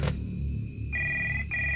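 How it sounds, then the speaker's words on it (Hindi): A telephone rings loud and close in a horror story: a sharp electronic bell tone repeats in quick bursts, heard alone with no voices. "फोन बजा।"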